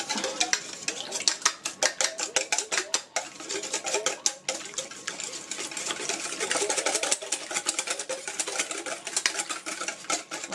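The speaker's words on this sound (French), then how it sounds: "On va fouetter les œufs." Eggs being whisked in a dish for a mushroom tart, rapid close clinking and tapping strokes of a whisk against the bowl in bursts with brief pauses, no voices.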